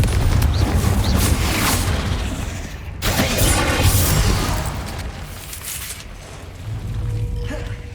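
Loud, booming Confringo spell blasts from the Hogwarts Legacy video game erupt several times, each a broad crackling burst that swells and fades into the next.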